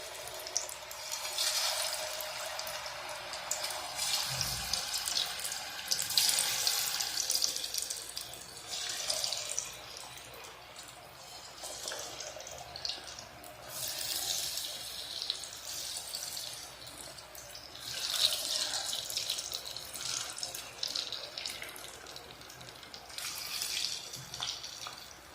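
Potato wedges frying in hot cooking oil give a continuous hiss and crackle that swells in waves, close by and with no talk over it.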